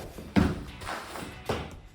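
Two distinct thuds as a hand or foot taps the floor between breakdance flare rounds, spaced about a second apart, close and moderately loud over a quiet room.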